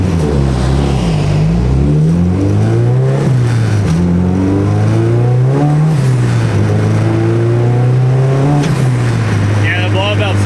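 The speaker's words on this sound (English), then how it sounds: "the blow-off valve sounds sick." A 600HP turbocharged street car revs loudly and repeatedly, its engine note climbing and falling in several surges, with a blow-off valve hissing sharply near the end; people talk over it throughout.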